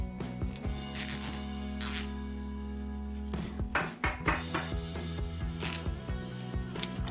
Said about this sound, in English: Cinch the bundle with another zip tie to hold them tight.